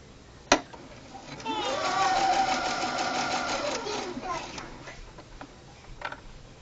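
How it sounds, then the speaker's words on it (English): A sewing machine runs steadily for a few seconds while stitching around the edge of a small keychain diaper, a close mechanical whir that rises and then stops, with a voice talking over it. "we're continuing to sew right around the edge of this"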